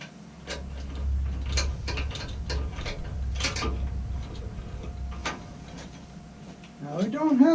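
A clamp on a segment jig is cranked tight against the lathe ways, giving a series of close mechanical ticks and clicks with low rumble beneath, and a brief voice near the end.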